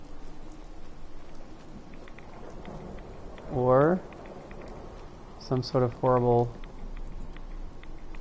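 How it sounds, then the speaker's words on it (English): Steady rain falls in the video game Fallout 4, a soft continuous hiss spread evenly throughout, with someone talking over it in short bursts. "Is this the rain?"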